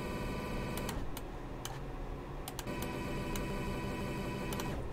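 Claw machine effect applied to a track section in FL Studio, a steady dense mechanical loop with regular bright ticking clicks repeating over a constant layered drone, alone at a moderate level.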